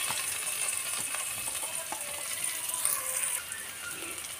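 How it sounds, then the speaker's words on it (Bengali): Chopped onions frying in a pan with garlic, ginger and salt, a close, steady sizzle with scraping and clicking from stirring throughout. "নুন দিয়ে আমি পেঁয়াজগুলোকে একটু ভেজে নেব"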